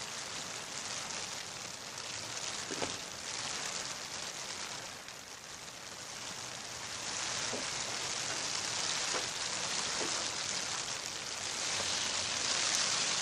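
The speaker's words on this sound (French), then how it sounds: "Sous ma souka, il pleut en ce moment." Rain falls steadily on a sukkah, a dense, even hiss of drops with a few louder individual drips, close and continuous with no talk.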